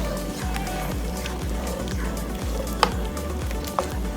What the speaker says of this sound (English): I'm going to get a spoon, and I'm just going to mix everything together.